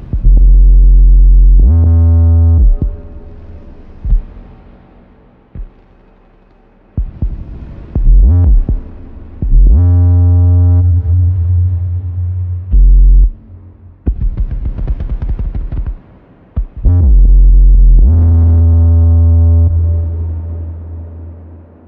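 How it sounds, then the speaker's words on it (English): Plaits synth module playing a deep bass tone that swells in and cuts out in several loud sustained bursts, triggered by pressure on a Cicada physical-synthesis soundboard, with brief clicks and gaps between phrases. "there's Plaits, which is the bass that comes in when I put pressure on the Cicada Soundboard"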